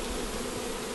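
Honeybees from a package hive swarm close by during installation on a honey farm, a dense continuous buzz filling the short moment without any talk.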